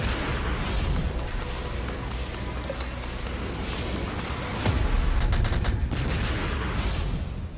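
Dull, distant booming reports of army artillery during a military exercise in high mountain terrain in Arunachal Pradesh, India, with a harsh, muffled noise bed, and a brief cluster of sharper thuds about two-thirds through.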